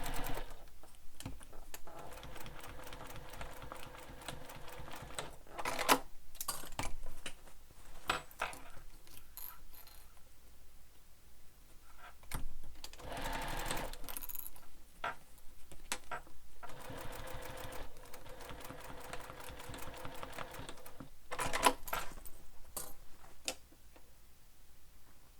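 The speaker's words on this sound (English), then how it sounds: "You're just sewing through your lining." A sewing machine stitches through a bag lining in bursts of rapid mechanical ticking, broken by short pauses and a few clicks, close and fairly loud with no talking.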